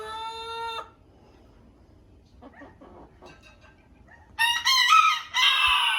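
A rooster crows loudly and close by in a backyard coop, with a brief opening crow, some quiet clucking, then a longer, harsher crow at the end.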